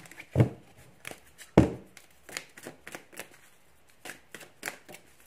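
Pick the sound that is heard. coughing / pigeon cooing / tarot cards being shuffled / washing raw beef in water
tarot cards being shuffled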